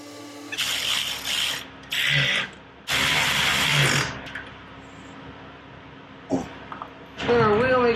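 The rear wheel of a 2006 Harley Davidson Softail Standard spins on a workshop stand after refitting, giving several loud close whirring, ratcheting bursts with softer gaps, while someone talks over it.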